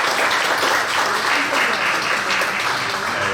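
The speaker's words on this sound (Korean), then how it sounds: "하나님께 영광의 박수 드리겠습니다." A church congregation applauds steadily through an opening worship service at the Seopyeongyang Presbytery's 194th regular meeting in Seongsan Church. The clapping is dense and sustained, a full room clapping together without a break.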